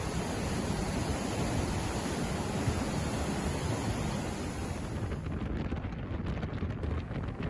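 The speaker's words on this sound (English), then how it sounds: "Though winter is the dry season for the gorge, you can still hear the roaring of the water." Roaring water rushes through a deep Yangtze River gorge in the winter dry season, a loud, steady, continuous rumble with no voices, heard close and unbroken throughout.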